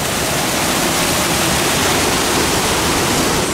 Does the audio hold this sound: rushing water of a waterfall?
yes